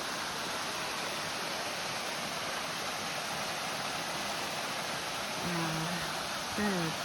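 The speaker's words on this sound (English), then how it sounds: "And look at this, another waterfall. Another beautiful little waterfall." A small waterfall in a rhododendron forest at Hickory Run State Park, a steady rushing hiss of falling water, continuous and fairly close, with a brief voice near the end.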